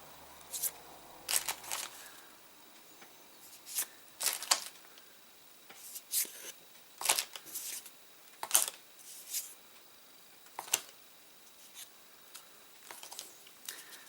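Cardboard board game tiles being opened and handled, with a series of sharp crisp snaps, pops and light rustles scattered irregularly at close range over a quiet background.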